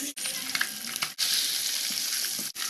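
Eggs frying in a pan for a spiced egg dish, a steady close sizzle with brief breaks, no talking.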